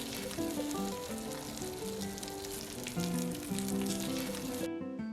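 Egg-battered jeon pan-fry slowly over low heat for a Chuseok holiday platter, a soft continuous sizzle running under louder background music until both cut off near the end.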